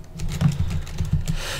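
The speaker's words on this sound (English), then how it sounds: "It doesn't help the fact that I have to click for everything" Rapid clicking at a computer while crafting in Tekkit Classic, a Minecraft modpack, loud, close, uneven taps in quick bursts with no speech.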